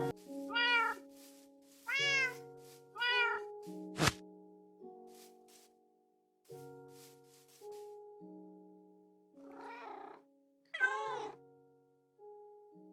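Minecraft cats meow repeatedly, with about six distinct meows spread over several seconds, quiet and close, against a soft background of faint sustained in-game tones.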